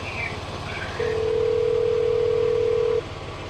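Ringback tone on a phone call, one steady two-second electronic tone rising clearly over quiet background rumble from inside a truck.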